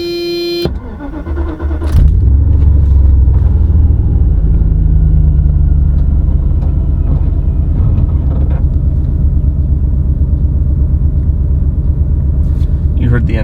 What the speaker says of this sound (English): I will start the car and take it for a little drive.